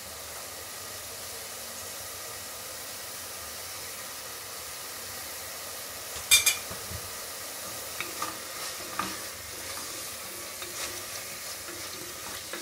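Chopped onions sauté for mushroom biryani, a faint steady sizzle in a pan broken by a few scraping stirs and clinks midway, no voices.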